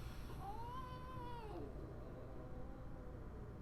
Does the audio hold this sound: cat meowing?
yes